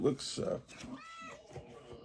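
A house cat meows in a short call near the start, with a second mew following, heard close up amid room sound and talk.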